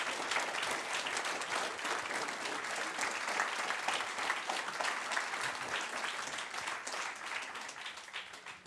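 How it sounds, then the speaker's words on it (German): Steady, continuous audience applause in the cinema hall of the Deutsches Filmmuseum in Frankfurt welcomes director Wim Wenders; the clapping is heard from some distance and stays even throughout, with no speech over it. "Ihr Applaus."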